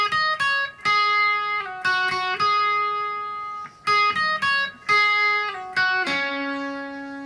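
An electric guitar plays a riff, clean plucked notes in short phrases with sustained held notes and a vibrato-shaded final note.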